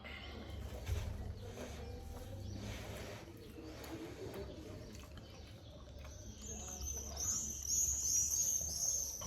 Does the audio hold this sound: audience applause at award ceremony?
no